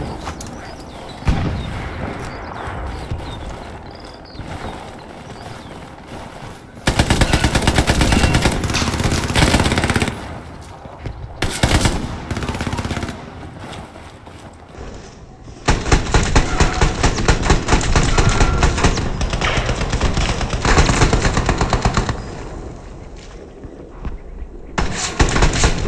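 DP-27 machine gun fire in the video game Hell Let Loose: loud, rapid bursts of automatic shots in several long strings, separated by quieter gaps of distant battle noise.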